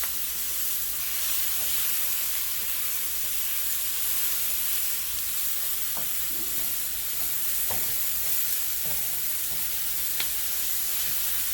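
Onions fry in safflower oil with a steady, close sizzle and hiss, while occasional soft clicks from stirring break through and no one speaks.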